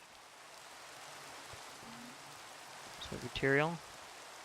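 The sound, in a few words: rain falling in Minecraft video game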